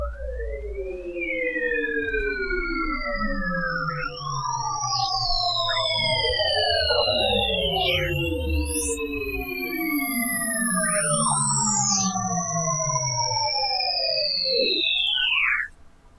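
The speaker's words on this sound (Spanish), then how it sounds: "Esta es la flor de la vida en Bradbury Castle, 28 de julio de 2003, y suena así." Sonified rendering of the Flower of Life crop circle at Bradbury Castle, 28 July 2003: eerie electronic tones glide up and down in looping, overlapping sweeps, like wailing sirens, above a steady low rumble.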